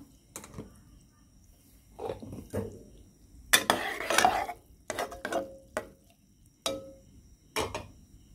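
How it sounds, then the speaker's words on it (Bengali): Dry Kraft macaroni goes into a pot of hot milk made from powdered milk, giving scattered light clicks and rattles at an uneven pace with short quiet gaps between them. "এখন আমি এর মধ্যে ম্যাকারনিগুলি দিয়ে দিলাম"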